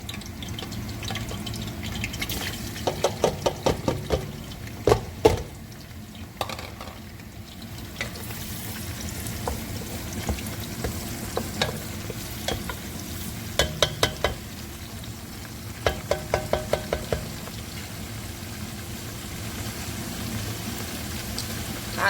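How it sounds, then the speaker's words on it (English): Onion frying in about a cup of hot oil in a pot for tomato stew and jollof rice, a steady sizzle throughout with intermittent clinks and scraping stirs, no talking. "I'm gonna let the onion caramelize a little bit"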